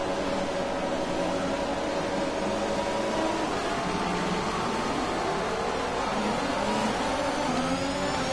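A Formula One car engine roars at the race start in F1 2021 on the Canada circuit, with the pitch climbing steadily in a loud, dense, continuous wall of engine noise that masks everything else.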